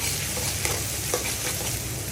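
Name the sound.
frying onion and garlic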